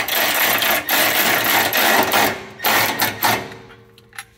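A power tool drives down M6 bolts on a 2023 Honda Pilot catalytic converter skid plate, giving a loud, close, rapid buzzing chatter in bursts with brief pauses, then trailing off.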